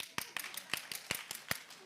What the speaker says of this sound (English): so give me an applause